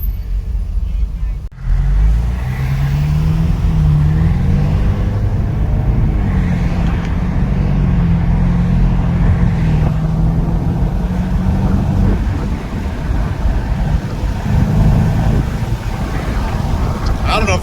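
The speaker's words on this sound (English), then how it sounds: "this thing has like a diesel like turbo spool. It sounds great" A rental car's engine with a diesel-like turbo spool drones loud and close throughout, its pitch wavering and climbing as the turbo whooshes under steady cabin noise.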